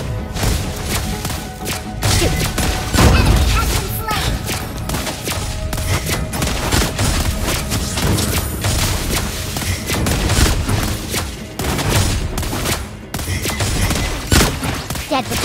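Rapid bursts of gunfire from the hero Lesley in the mobile game Mobile Legends, dense, loud and close, with thuds and impacts layered over game music.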